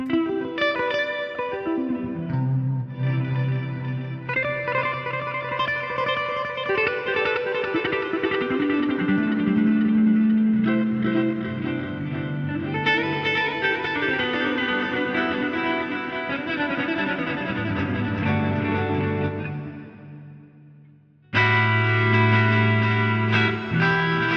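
Electric guitar arpeggios run through a Line 6 Helix ambient preset, sustained and washed in reverb, chorus and echo, playing continuously with a brief drop near the end before ringing back in.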